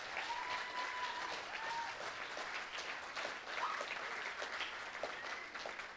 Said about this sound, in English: So please give him a nice big round of applause.